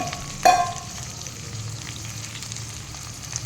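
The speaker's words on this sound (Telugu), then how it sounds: "ఇక ఇందులోనే సొరకాయ ముక్కలు వేస్తున్నాను" Bottle gourd pieces dropped into a pan with a brief clatter, then a faint, steady frying hiss continuing quietly for the rest of the clip.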